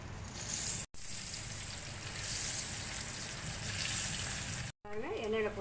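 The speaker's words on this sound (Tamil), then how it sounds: "இப்போ எண்ணெயில் பொரிச்சு எடுக்கலாம் வாங்க." Potato cheese balls coated in bread crumbs deep-frying in oil over medium heat, a steady moderate sizzle broken by two brief cuts, with a voice talking near the end.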